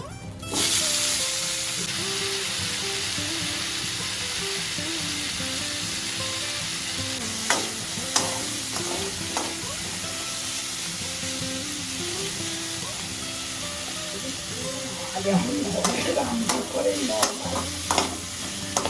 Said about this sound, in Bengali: তারপর আলুটাকে ভাজবে